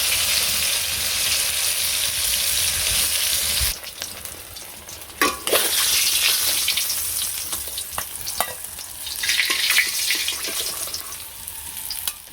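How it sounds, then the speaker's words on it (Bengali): Fish frying in hot oil during village home cooking, a loud, steady crackling sizzle close by that runs almost without a break, with a short lull and a few sharp stirring or utensil knocks partway through; no one speaks. "মাছগুলো ভাজা শেষ"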